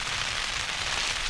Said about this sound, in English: I'm hoping this is just a passing shower.